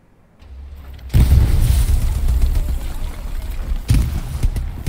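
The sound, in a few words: artillery explosion in the video game Hell Let Loose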